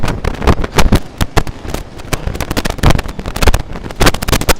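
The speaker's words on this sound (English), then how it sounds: "And right now, it is very windy" Strong, gusty wind buffets a microphone on a New York City street in winter, loud broadband rumbles rising and falling in irregular bursts throughout, with no talking.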